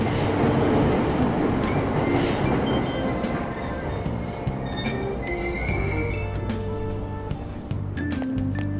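A subway train in the Persona 5 Royal video game departs with a steady, loud rolling rumble, wheel and rail hum, and faint metallic squeals and clicks running throughout.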